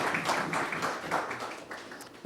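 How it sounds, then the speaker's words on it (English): Audience applause at a formal parliamentary awards sitting for teens in St. Kitts and Nevis, a steady, moderate patter of many hands clapping at a middle distance. "Clap, clap, clap, clap, clap"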